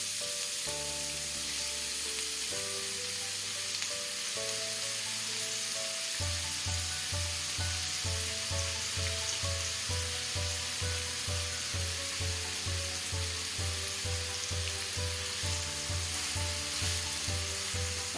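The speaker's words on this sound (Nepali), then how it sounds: "अब यसलाई हल्का गोल्डन ब्राउन हुने बेलासम्म फ्राई गर्नुपर्छ।" About 300 grams of oyster mushrooms fry in oil in a pan, a steady bright sizzle running for the whole stretch under background music with a repeating beat, with no talking.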